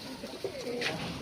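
Pet pigeons coo softly nearby in a brief low, throaty call.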